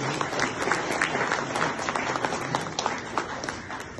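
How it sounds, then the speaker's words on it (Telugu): Audience applause fills a retirement function, steady dense clapping from a crowd throughout, fairly close and lively. "అందరు గట్టిగా క్లాస్ షూట్ ఎంకరేజ్ చేయండి"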